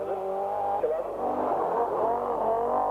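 A rally car at the 1981 RAC Rally approaches and passes nearby, its engine note rising and falling with a strong harmonic whine and a brief tyre-scrabble in the middle, loud and continuous throughout.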